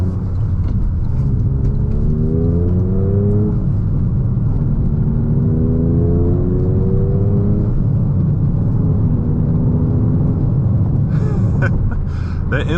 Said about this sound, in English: The inline 3 sounds interesting.